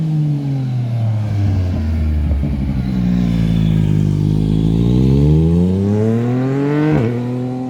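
Motorcycles, including a Yamaha FZ1N, ride through a corner, engines dropping in pitch as they slow into the bend and climbing again as they accelerate out, loud and close, with a sharp rev near the end.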